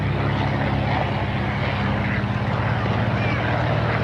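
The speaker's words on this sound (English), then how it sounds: "Open cockpit in the front of the back, another PT-19. Number 65 coming by." A Fairchild PT-19 open-cockpit trainer airplane passing at an air show, its propeller engine a loud, steady drone throughout with no pauses.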